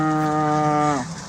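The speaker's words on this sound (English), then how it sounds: "All the cows came and they contacted each other with moos" A single long, steady cow moo near a water trough, loud and close, ending with a falling pitch and a brief tail of quiet.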